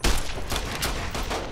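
Rapid bursts of gunfire from the video game Fallout: New Vegas, loud and close, with several sharp overlapping shots in quick succession and no talk over them.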